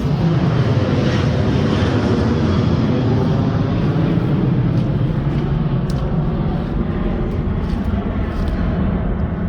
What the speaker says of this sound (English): the plane just taken off.